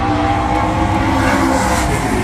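Race cars lap the Delaware oval track with a loud, continuous engine roar that stays close and steady and does not fall away.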